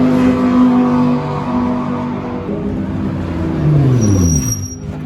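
Race cars, including Alpine Cup, GT4 and Mitjet machines, rev and pass near a racing circuit's pits shortly before a race start, engine notes rising and falling with some whining pitch sweeps in the background.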